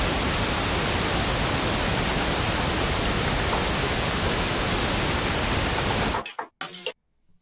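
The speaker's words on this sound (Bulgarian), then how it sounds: "пускаме да видим горе-долу как сме го направили с помощта на Pink Noise" Pink noise test signal used to set mix levels: a steady, loud broadband hiss running unbroken for about six seconds, then cutting off abruptly into near silence with brief faint bursts.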